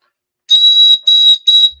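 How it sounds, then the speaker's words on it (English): A porcelain bird-shaped whistle blown in three shrill, piercing toots, the first longest, each a steady pure pitch, close and loud against silence. "They're porcelain. They're a bird, and you blow through it. It's like a whistle."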